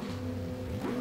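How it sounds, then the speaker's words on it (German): Ferrari 575 GTC engine idling steadily in the GTR 2 racing game at Monza, a low continuous hum with a slight pitch rise near the end. "Alles klar, Motor ist an."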